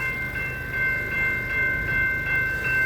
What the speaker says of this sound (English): There must be another train coming down there